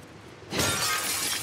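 A window pane is smashed with a hammer in The Last of Us Part 2: after a quiet moment, a sudden loud crash of shattering glass breaks out and sprays into a sustained tinkling spill of shards.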